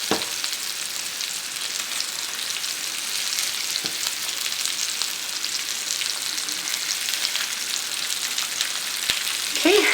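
Pork medallions frying in a hot pan give a steady, dense, close sizzle that stays even throughout, with a few faint clicks and a slight swell at the end.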